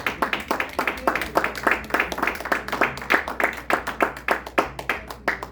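Steady conference audience applause, a dense crowd of hands clapping continuously at close range with no voices on top.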